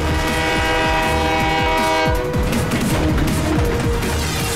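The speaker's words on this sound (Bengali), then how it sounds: "ট্রেনটা দাঁড়াচ্ছে না কেন?" A runaway cartoon train rushes along loudly with a rhythmic clickety-clack of wheels and a sustained blaring horn, continuous and close throughout, with no speech.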